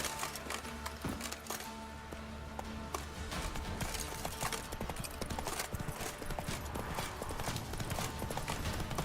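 Hooves clip-clop steadily for several seconds as a horse moves through the world of The Witcher 3, a continuous patter of hoofbeats over dense game ambience and background music.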